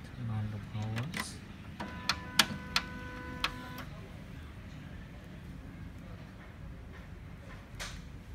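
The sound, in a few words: HP Color LaserJet Pro MFP M181fw printer starting up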